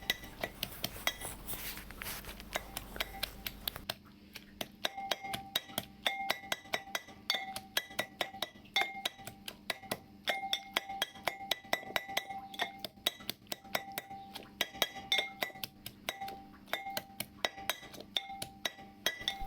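Flat-bean bharta is mashed with salt in a bowl, a fast, steady run of metallic clinks and knocks that continues for many seconds at close range.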